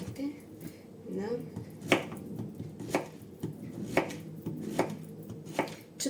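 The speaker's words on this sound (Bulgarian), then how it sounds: "Нарязваме си тиквички." A knife chops zucchini into quarters inside a baking pan, giving sharp, close, evenly spaced cuts with a voice talking beneath in Bulgarian.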